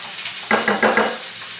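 Ground meat sizzles steadily in a hot frying pan, with a few louder scraping stirs as it's moved around, close up and without voices.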